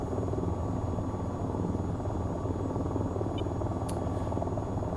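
An AH-94 attack helicopter in the flight game VTOL VR holds a steady, continuous rotor and engine drone, loud and unbroken, with a brief faint click near the end.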